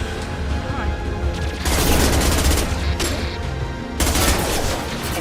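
Heavy gunfire in the video game Mass Effect 2: dense, continuous automatic bursts and booming shots fill the scene loudly, with combat voices calling out over the barrage.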